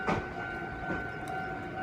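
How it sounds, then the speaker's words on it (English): A train passes on the rails with a faint, steady rumble and a thin sustained tone, a brief louder knock near the start. "here comes my train"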